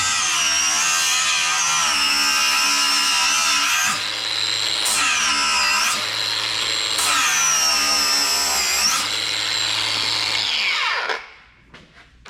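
A Bosch Profactor Spitfire 18-volt cordless brushless angle grinder, model GWS18, whines loudly and steadily while grinding, its pitch dipping several times under load, then spins down and stops near the end.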